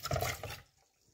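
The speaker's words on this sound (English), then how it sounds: "Pour everything in" A short splash of green salsa ingredients pouring into a blender, then fading quickly to near silence.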